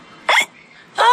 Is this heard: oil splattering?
no